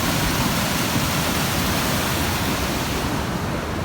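Powerful Almatinka mountain river rushing down from the mountains, a dense, loud, continuous roar of turbulent water with no pauses or voices.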